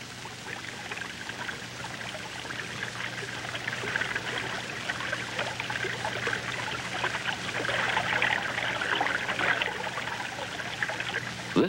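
Flowing water of a moving river stream below Dresslerville, where acorn flour is prepared; a steady, close trickling and pouring wash runs continuously throughout, with no voices.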